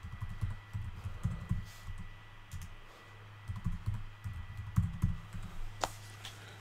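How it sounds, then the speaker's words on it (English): A password is typed on a computer keyboard close by, with quick, irregular clusters of key clicks and short pauses between them and no talking. "So I'm just going to type in a password here."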